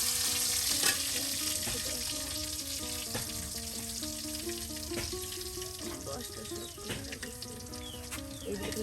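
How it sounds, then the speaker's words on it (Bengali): Sliced onions sizzle steadily in hot oil as garam masala is added, with a constant frying hiss and occasional clinks and scrapes of a stirring spoon in a village-style kitchen. "সুন্দর করে পেঁয়াজগুলো তেলে ভেজে নেওয়ার সাথে সাথে এখন গরম মশলা দিয়ে দেওয়া হচ্ছে"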